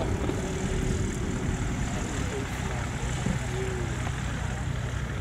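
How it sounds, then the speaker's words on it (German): A Remos GX light aircraft's engine runs steadily, a constant droning propeller hum with a broad noisy rumble that holds level throughout, while people chat in German over it. "Das ist nicht der Rasenmäher, das ist das Flugzeug."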